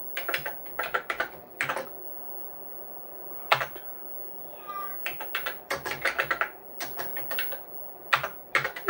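Bursts of computer keyboard typing, quick clustered keystrokes with short pauses between, close by, with a faint high cry in one gap.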